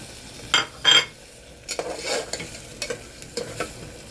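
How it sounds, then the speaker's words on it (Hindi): Two chopped medium tomatoes hit a hot frying pan with a couple of bursts of sizzling, then stirring and scraping sounds follow in short irregular scrapes. "अब हम इसमें टमाटर डाल देंगे"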